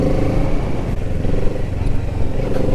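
Kawasaki Z650 motorcycle engine answering a small throttle blip, a loud, close, rough low rumble that swells briefly and stays steady throughout.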